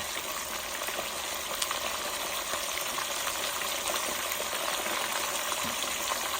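Fish sizzles while frying in a pan with ginger, giving a steady, fairly faint hiss and crackle with no voices and no real break in the sound.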